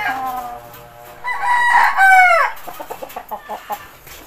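A McLean Hatch gamefowl chicken clucks up close, rising into a loud drawn-out crowing call before breaking into a run of short, sharp clucks.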